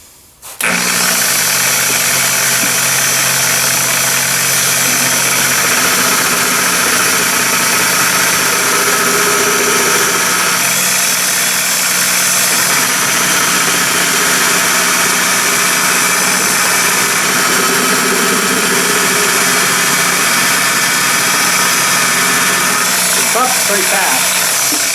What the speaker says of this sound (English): time to buff it. Wet sanded it through 2000 and some compound.